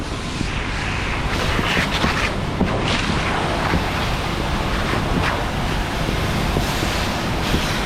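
A firefighting foam nozzle sprays during aircraft fire training outdoors, a broad continuous rushing hiss mixed with wind buffeting on the microphone, steady and loud for the whole stretch with no talking.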